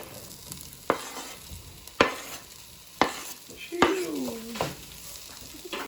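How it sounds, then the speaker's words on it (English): Spam and onions stir-fry in a pan with a soft constant sizzle, punctuated by four or five sharp spatula scrapes and clanks at roughly one-second intervals, with a brief voice in the background. "Now Eric is adding the spam in to the onions."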